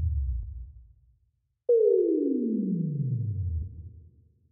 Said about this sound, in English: Try adding a bit of reverb to this.